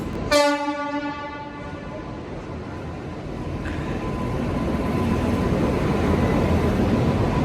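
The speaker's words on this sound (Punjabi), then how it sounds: "ਆਣ ਲੱਗੀ ਹੈ ਟ੍ਰੇਨ ਸਾਡੀ ਇੱਕ ਹੋਰ ਆ ਗਈ ਹੈ" A single loud horn blast sounds right at the start, then the Howrah Express's rumble grows steadily louder as it approaches the station.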